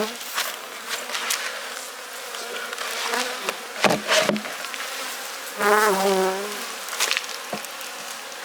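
A dense, continuous buzz of many honeybees swarming close by an open hive colony, with individual bees droning louder as they pass near.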